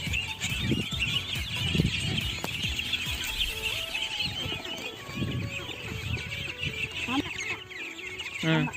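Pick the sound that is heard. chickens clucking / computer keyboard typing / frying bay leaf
chickens clucking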